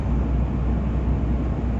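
A pickup truck with a 6.4 Hemi and 6-speed transmission cruising on the road while towing a car, a loud, steady low rumble of engine and road noise from inside the cab, no talking.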